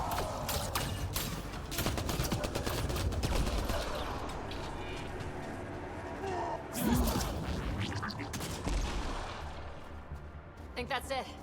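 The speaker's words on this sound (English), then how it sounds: "Shooting the device will destroy it." A Ket device is shot during the Terraformer mission in Mass Effect Andromeda. Close, rapid gunfire bursts and mechanical clatter play over game ambience, with voices talking throughout.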